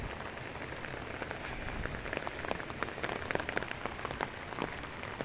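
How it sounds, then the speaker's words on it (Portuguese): Heavy rain pours down steadily in a dense, hissing wash, with sharper drops pattering on a nearby surface throughout, loud and unbroken, with no voices. "são muitos dias de chuva. Chuva direto."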